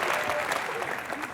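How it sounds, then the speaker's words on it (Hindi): Studio audience at a TV comedy show applauding steadily and loudly, a dense continuous wash of clapping from start to finish. "उषा नाडकर्णी जी, रेणुका जी और स्मिता बांसल जी का जोरदार तालियों से"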